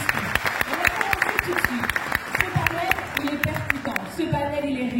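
Audience applause for a guest arriving at a conference panel at an African entrepreneurs' business fair, with a burst of sharp, dense claps under a voice talking over it.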